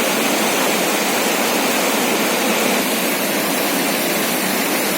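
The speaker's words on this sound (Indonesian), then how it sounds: "Sungai ini adalah sungai yang harusnya mengalir ke Birun sana. Sungai Pesangan namanya." Rushing water of the Pesangan River at the Lukup Badak rafting spot in Central Aceh, a steady, full broadband roar of fast-flowing current that stays constant and fairly close, with no talking.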